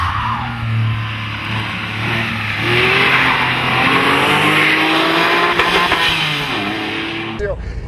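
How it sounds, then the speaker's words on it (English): Flat-six engine of a 2007 Porsche 911 Targa 4 howls as the car accelerates hard out of corners, pitch climbing through the gears, loud and close with faint tire noise and talk over the engine. "it's still got that evocative 911 flat six howl"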